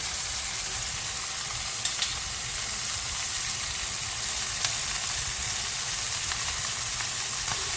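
Fillet steaks sear in a hot pan with a steady, even sizzle and hiss, close and continuous, broken by a few faint pops and spits.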